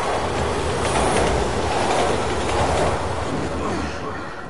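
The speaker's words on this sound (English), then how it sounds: "Train's coming!" A train rumbles past in the Resident Evil 6 video game, a loud continuous roar with rattling wheels and clickety-clack that holds steady before easing slightly at the end.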